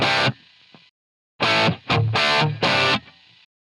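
Dry, distorted electric guitar chords with EQ and reverb removed, played in short bursts with abrupt stops and silent gaps, harsh and buzzy with no ambience.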